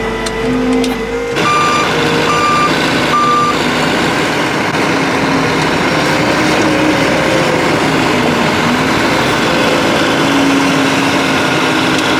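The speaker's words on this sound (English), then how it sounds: "I'll just put the revs up a little bit on the hand throttle, and then it'll just keep the RPM up" A John Deere tractor engine holds steady at raised revs on the hand throttle during muck spreading, a continuous loud drone throughout, with a repeating reversing beep near the start and no talk.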